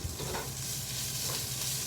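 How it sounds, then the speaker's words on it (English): Tomato puree goes into a hot frying pan for matar paneer, giving a steady, close sizzle and frying hiss with some stirring scrapes throughout, and no talk. "So I'm gonna add some tomato puree in there."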